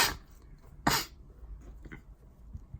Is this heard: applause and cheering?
no